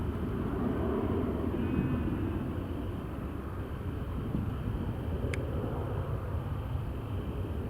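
An airliner departs Newcastle International Airport, a low, diffuse engine rumble carried from a distance under a steady wash of wind, with one short high blip near the end.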